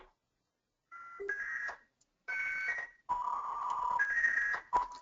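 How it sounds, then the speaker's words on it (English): Dial-up internet modem connecting: bursts of tones and screeching handshake noise in separate segments, loud and close, with no talking. "We used our modems to dial in and connect to the information superhighway."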